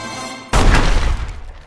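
A single loud gunshot blast from an old woman firing at rats in a house, in the animated film Ratatouille: a sharp, booming crack at the start that rings out and slowly decays.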